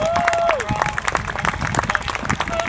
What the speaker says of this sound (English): give as much round of applause and cheers as you can